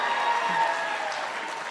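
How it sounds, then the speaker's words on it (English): Audience applause at a human rights awards event, a steady dense wash of clapping from a crowd, fairly close and even, slowly easing off, with faint voices underneath. "You got applause."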